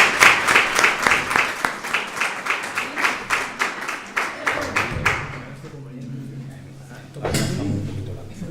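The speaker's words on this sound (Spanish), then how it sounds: "Un aplauso." An audience greets a speaker at a talk with loud, rhythmic clapping that slowly thins out and stops, followed by a low hum and some shuffling and movement near the end.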